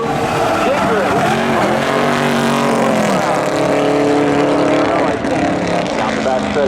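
A Subaru and a Ford F2 race side by side on an oval track at spectator drags, engines roaring loud and continuous with shifting pitch as they accelerate, while a commentator talks over them throughout.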